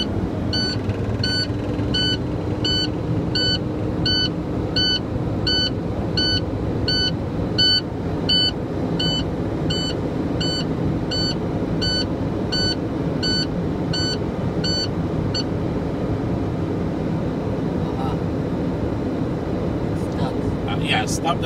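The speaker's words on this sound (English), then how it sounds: "stop the buzzer because now we are over 75" A steady, rapid electronic beeping from a truck's low air pressure warning buzzer pulses over a loud idling engine rumble for about fifteen seconds, then stops while the engine keeps running.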